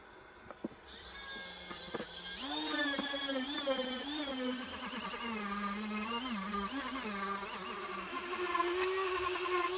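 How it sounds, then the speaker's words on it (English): A Dremel rotary tool cuts into the side of a cosplay helmet, with a whining, wavering buzz that rises and falls in pitch as it bites into the material, heard close and continuous after a few clicks. "the next thing I'm going to do is Dremel out the side so my helmet fits"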